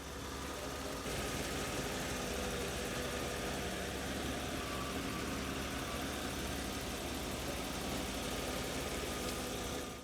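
A revived V12 BMW E31 850i engine runs steadily through a slow lap around a yard, a loud, continuous hum with no break in tone.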